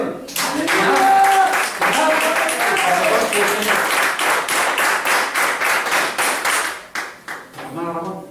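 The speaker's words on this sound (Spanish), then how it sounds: "El otro aplauso al Señor." A church congregation applauds during a service, a dense wash of many hands clapping that swells loud, then breaks into slower, more separate claps before fading as a voice with musical tones returns at the end.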